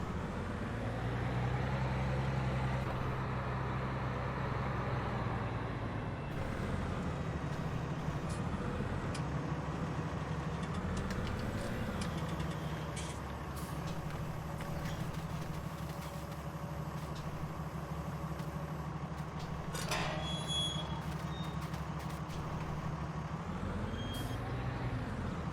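A modded Ford tractor in Farming Simulator 19 drones with a steady low engine note that swells and dips slightly, with occasional clanks and a brief hiss over the continuous rumble.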